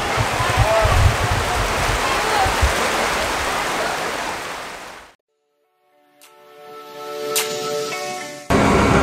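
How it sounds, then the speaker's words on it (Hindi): Heavy rain near Shivanasamudra Falls pours in a dense, loud, steady hiss for about five seconds. It cuts to near silence, then faint tonal sounds build before the roar returns. "डेंजर बारिश हो रहा है यहाँ पर"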